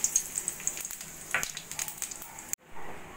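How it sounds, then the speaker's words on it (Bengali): Cumin, bay leaf and cardamom sizzle in hot oil in a kadai for dalia khichuri, giving a faint, close crackle of small pops that cuts off abruptly near the end. "এখানে আমি কড়াইতে তেল গরম বসিয়ে দিয়েছি। দিয়ে দেব জিরে, তেজপাতা আর এলাচ ফোড়ন।"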